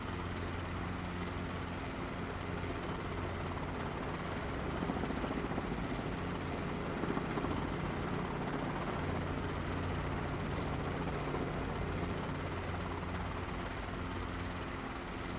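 A helicopter in flight fills the scene with a steady, even rotor and engine drone, constant and unbroken throughout, heard from inside or close by, with no voices.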